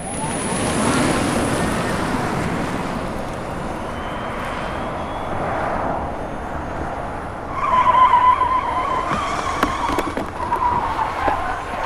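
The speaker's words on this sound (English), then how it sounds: "Range and speed of the all-electric Fiat 500E." An all-electric Fiat 500e drives fast on a test run, a steady rushing whine and road roar building near, then a brighter, louder pass with sharper tonal whirs toward the end.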